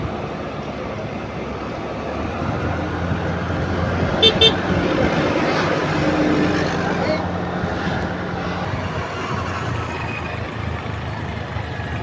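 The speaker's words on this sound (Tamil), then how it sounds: "இவ்வளோ வாகனம்." Heavy road traffic surrounding a scooter on a road in Sri Lanka: a continuous hum of cars and trucks with brief horn toots partway through, steady and fairly loud.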